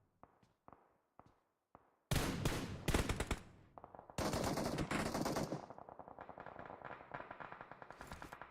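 Video game gunfire during an esports scrimmage match: a few sparse single shots, then dense bursts of rapid automatic fire, loud and close, followed by quicker repeated shots.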